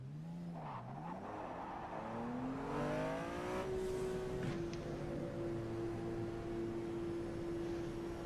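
An Indy car engine at Indianapolis in a racing sim screams up through the gears, dipping at each shift, then settles into a sustained high-pitched whine at speed, close and prominent.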